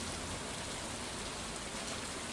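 Steady rain from the Stardew Valley video game falls as an even, dense hiss of drops on surfaces, constant and moderately loud with no voices over it.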